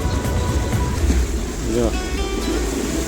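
Sea waves wash onto the shore at Dwarka in a steady, continuous roar, with wind noise and people talking over the surf throughout.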